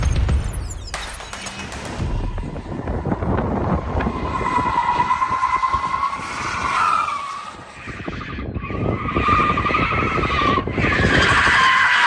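Tires on a base rear-wheel-drive Porsche Taycan electric car squeal loudly and continuously while it drifts. The skid rises and wavers in pitch, dips briefly near the middle, then screeches hard again.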